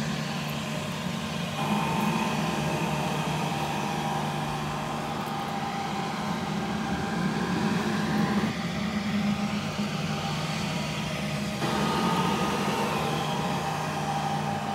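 Minuteman MR20SV sweeper running with its vacuum motor and brushes on, a steady mid-loud whirring drone with brief shifts in pitch and no talk.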